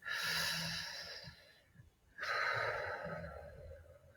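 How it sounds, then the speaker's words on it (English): A deep breath drawn in and then slowly released, with an audible airy inhale, a brief pause, and a long exhale, close and soft with no talking. "Take a deep breath."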